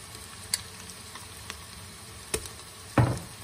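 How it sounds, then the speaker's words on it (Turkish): Tomato paste and onions sizzle faintly in oil while being sautéed for a meat and white bean stew, with a few sharp stirring scrapes and clinks against the pot, the loudest near the end. "Şöyle salçanın da kokusu çıkıncaya kadar bir iki kavuracağım."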